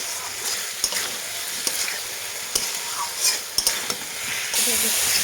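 Drumsticks and fried potatoes tossed in spice paste sizzle in a pan, a continuous frying hiss punctuated by sharp scrapes and knocks of a spoon against the pan, with the sizzle rising near the end.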